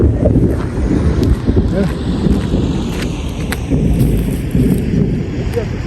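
Strong wind roars continuously against the microphone during kite flying in wind and rain, a loud, rumbling gusty blast with people talking over it.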